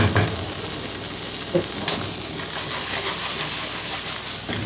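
Fish mixture frying in a pan, a steady close sizzle and crackle with a few brief pops, no talk over it.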